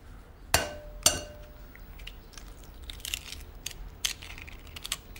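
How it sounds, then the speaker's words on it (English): An egg cracked in a cottage kitchen: two sharp, close taps on a hard edge, followed by faint crackles and small clicks as the shell breaks apart, with no talking. "I guess I've probably cracked tens of thousands of eggs in my life, but none with such eager anticipation as this one."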